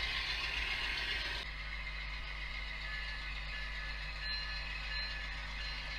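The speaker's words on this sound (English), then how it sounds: "here comes that eastbound California Zephyr, bound for Denver" An eastbound Amtrak California Zephyr passenger train rolls through Fairview without stopping, a faint, distant low rumble with steady wheel rattle that carries on throughout.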